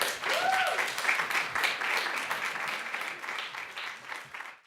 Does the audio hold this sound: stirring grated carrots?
no